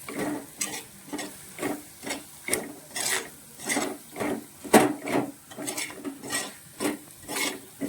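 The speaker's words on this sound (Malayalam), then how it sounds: "കുറച്ച് ഉലുവപ്പൊടിയും കൂടി ചേർക്കുവാണ് നമുക്കിതെല്ലാം കൂടി നന്നായിട്ട് ഇളക്കി യോജിപ്പിക്കാം" A spoon scrapes rhythmically through an anchovy pickle mixture in a pan as fenugreek powder and turmeric are worked in, giving a dozen or so regular rasping strokes over a low sizzle.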